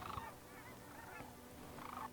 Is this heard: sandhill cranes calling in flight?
yes